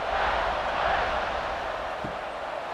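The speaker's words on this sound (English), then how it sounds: "this crowd is buzzing after that last score" A college football stadium crowd at Houston versus UCF buzzes after a touchdown, a steady broad roar of many voices filling the stands with no single cheer standing out.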